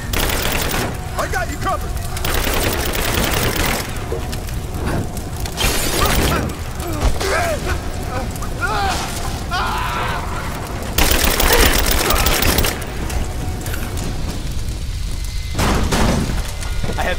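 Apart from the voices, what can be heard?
gunfire, suppressing fire in Rise of the Tomb Raider video game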